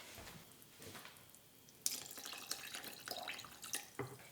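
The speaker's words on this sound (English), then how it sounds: "I'm gonna dilute it with a little bit of water that I boiled yesterday." Boiled water poured into a thick cold pink soup, a faint splashing trickle that grows busier and more bubbly partway through, with small liquid splatters and no talking.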